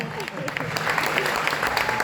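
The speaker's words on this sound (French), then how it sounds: "Vous pouvez l'applaudir." A crowd gives brief applause, a busy patter of hands mixed with overlapping voices and a little murmur.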